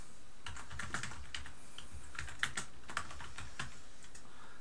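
Fingers type on a computer keyboard, a quiet close patter of irregular key clicks with a few firmer taps, no voices.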